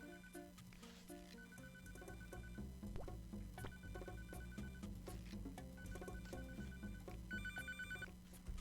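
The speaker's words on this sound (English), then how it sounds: "The phone. The phone is ringing." A telephone in the video game Papa's Pizzeria Deluxe rings again and again in electronic bursts over busy looping background music and scattered game clicks, at a steady level throughout.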